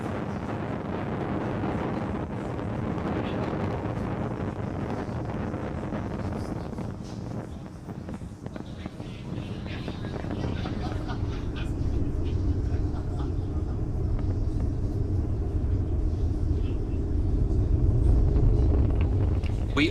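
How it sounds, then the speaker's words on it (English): Falcon 9 rocket lifting off from Launch Complex 39A on a Starlink mission, a loud continuous low rumbling roar with wind-like buffeting that swells and deepens toward the end. "Falcon 9 has successfully lifted off from Launch Complex 39A, carrying our 53 Starlink satellites into space."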